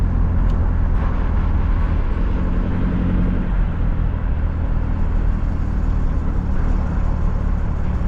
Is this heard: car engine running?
yes